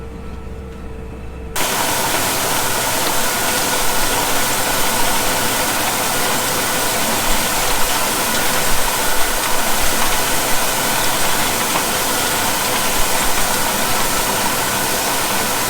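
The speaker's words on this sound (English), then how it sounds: "I quite like this tractor doing the work though." A tractor engine runs steadily at close range during farm work, a continuous mid-pitched drone with a broadband rumble that holds from start to finish without talk.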